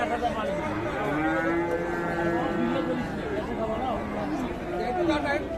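A meat bull lows with a long, mid-pitched moo amid murmuring crowd chatter at the busy Ambari cattle market in Dinajpur, with voices around it the whole time.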